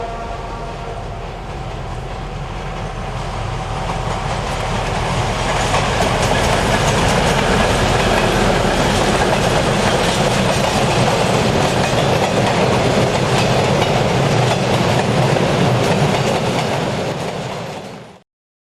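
Locomotive-hauled train running on railway track in the Czech Republic, a loud, steady rumble with rolling wheel noise that builds over the first few seconds and holds close and continuous until an abrupt end.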